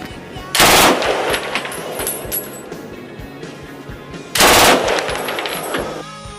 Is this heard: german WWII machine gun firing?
yes